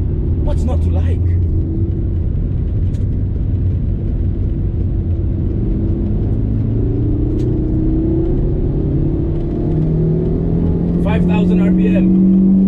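A Proton Iriz 1.6L with a manual gearbox revs its engine to near 6000 RPM, giving a loud, steady in-cabin drone with rising tones, and someone speaks briefly at the start and near the end.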